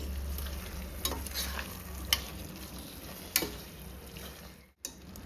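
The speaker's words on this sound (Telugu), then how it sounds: "అడుగంటకుండా ఈ గ్రేవీ మొత్తం బాగా కలుపుకోవాలి." Oily chicken biryani gravy being stirred in a pan, a quiet simmering hiss with a few sharp scrapes and clinks of the spoon against the pan.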